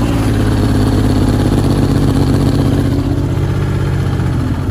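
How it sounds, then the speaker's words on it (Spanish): A Honda CBX 1000 cafe racer motorcycle engine runs close by, loud and continuous at a rough idle. The rumble stays steady throughout, with no voices. "Para que veáis el vehículo cómo arranca"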